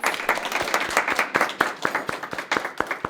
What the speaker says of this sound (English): Clap for them, parents.